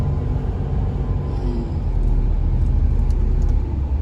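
Steady low road rumble from inside a car with a 3000cc engine, cruising toward Wiang Kaen in Chiang Rai behind a large truck, a continuous droning hum with no talk.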